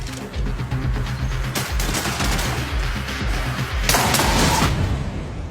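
Rapid gunfire from the science-fiction shooter game Marathon, loud, close bursts of automatic fire with heavy low thumps running almost continuously, no talk over it.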